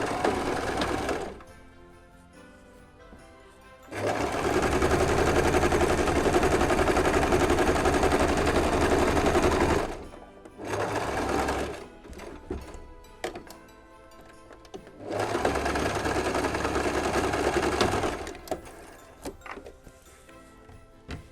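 A sewing machine stitching an elf stocking in a fast, close, loud drone. It runs in three long bursts and a shorter one with pauses between, going back a few stitches and forward a few at the start and finish of a seam.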